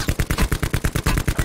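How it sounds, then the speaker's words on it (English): Enemy gunfire in Call of Duty Black Ops, a rapid automatic burst of about a dozen evenly spaced sharp shots, loud and close, with no voices. "Of course the people from over there are shooting at me now."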